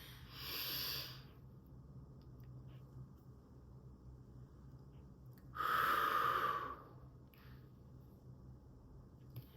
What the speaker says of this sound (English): That's box breathing.